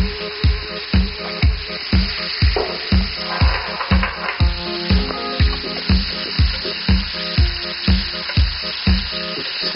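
Oil sizzles and crackles steadily in a frying pan on raised heat, with a rhythmic thumping pulse repeating throughout beneath the bright hiss.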